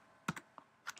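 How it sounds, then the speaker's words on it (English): A few crisp, close computer keyboard keystrokes in a quiet room, four or five quick taps in an uneven cluster as a file name is typed. "I'm just going to type in"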